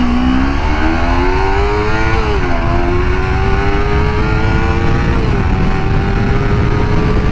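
A Kawasaki Ninja 250R 250cc twin-cylinder engine screams at high revs, close and loud, its pitch rising, dipping briefly at a shift, then climbing again in a continuous wail.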